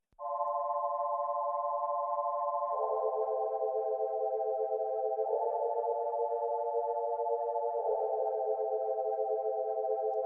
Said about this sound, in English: So the pads sound like this.